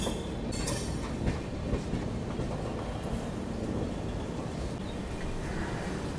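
Steady rumble and rattle of the 15127 Kashi Vishwanath Express passenger train in motion, heard from inside an empty six-berth cabin, with continuous rolling wheel noise and occasional clicks and knocks, no voices.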